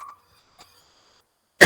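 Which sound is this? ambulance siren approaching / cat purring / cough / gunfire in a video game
cough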